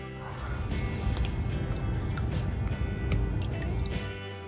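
Water trickles and gurgles steadily through a dam opening into a river on a miniature model lake, a small close flow with faint drips and splashes, no talking.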